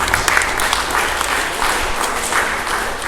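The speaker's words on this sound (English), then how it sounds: "A round of applause" A seminar audience in a college hall applauding together, a steady crowd of clapping hands that holds even and fairly loud throughout.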